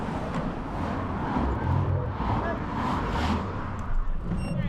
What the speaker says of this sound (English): In a few places, the route crossed a street with traffic.